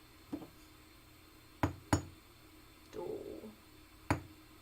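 A small ring is struck with a hammer, four or five sharp, distinct taps spaced irregularly over a quiet background, with a brief scraping sound between them.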